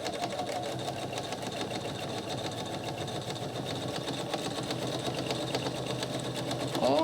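Sewing machine stitching around the edge of a washable sanitary pad, a fast, even mechanical whirr running continuously and close, with a faint shift in tone just at the end.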